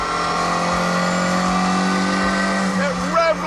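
A twin-cam 1.6-litre car engine in The Grand Tour video game holds a steady high-pitched rev with a buzzy drone, briefly rising near the end, continuous and close throughout.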